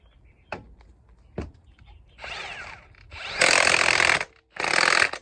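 Cordless impact wrench on the crankshaft bolt of a 2013 Kia Rio: two sharp knocks, then three loud bursts of rapid rattling hammering, the last two longest and strongest, close up.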